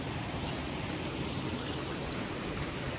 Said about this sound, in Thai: พี่จะได้ยินเสียงน้ำดังมากเลยนะ